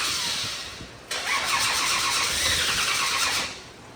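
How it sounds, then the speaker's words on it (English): A big-block engine in a 1965 Shelby Cobra cranks and fires. A quieter lead-in gives way to an abrupt loud catch into a rough, revving idle that settles and then fades slightly. "So we're gonna restart this engine"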